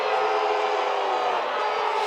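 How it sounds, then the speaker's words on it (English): A large football stadium crowd roars with steady, dense displeasure after a fumble at the 40-yard line, a loud continuous wash of voices that does not let up. "The crowd is very, very upset"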